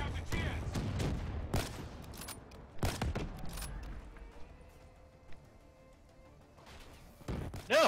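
Sniper rifle fire in the video game Call of Duty: Black Ops 3, with several sharp gunshot cracks and booming reports scattered over a noisy battlefield, the shots loud and spaced irregularly over continuous background rumble.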